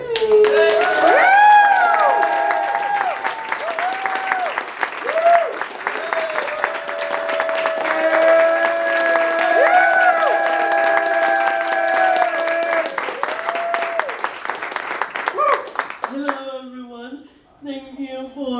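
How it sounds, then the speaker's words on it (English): Audience applause and clapping rings out at a San José poetry festival for a youth poet laureate reading, steady and full for about fifteen seconds before fading as a voice begins. "So please clap it up for Sage."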